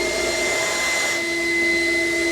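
A CECOR Sump Shark SD15 battery-powered sump vacuum runs with a loud, steady whine and airy roar, its pitch shifting slightly midway.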